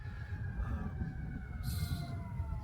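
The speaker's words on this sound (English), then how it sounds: "I got ambulances in the background." An ambulance siren wails far off across open countryside, a faint steady rising and falling tone sitting under low rumbling background noise, with no voices.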